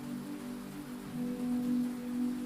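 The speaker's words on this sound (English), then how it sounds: "The rain whispers against the glass." Rain falls against window glass on a night at a laundromat, a steady soft patter under a constant low machine hum that swells slightly partway through.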